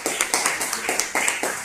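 A group of students claps hands together in a classroom, producing a quick series of sharp, evenly spaced claps that stay close and fairly loud.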